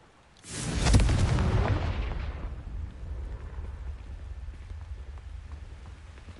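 The Confringo explosion spell in the Hogwarts Legacy video game lets off one loud close blast after a short silence, then a long fading crackling rumble that trails off slowly.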